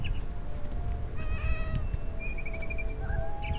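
A cat meows several times in short rising cries over a steady low background rumble, close and fairly clear, with no talking.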